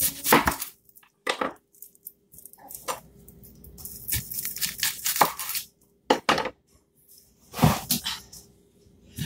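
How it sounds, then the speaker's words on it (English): Kitchen knife chopping a red onion on a cutting board: close, crisp chops in irregular quick bursts separated by short pauses, with no talking. "I gotta cut the onion now."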